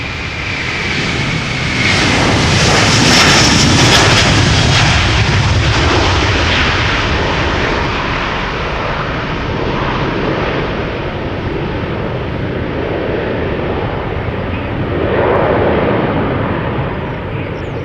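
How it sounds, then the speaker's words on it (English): Delta Airlines jet departing Schiphol's Polderbaan bound for Minneapolis, a loud sustained engine roar with crackling thrust that swells early, holds, then eases slightly before another surge, heard alone without voices. "This is Delta Airlines Flight 161 off to Minneapolis"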